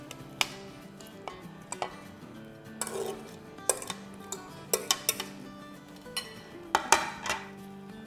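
Chopped vegetables and diced jalapeño being mixed in a bowl for a mutabbaq filling, with irregular close clinks and scrapes of a utensil against the dish at a steady, unhurried pace.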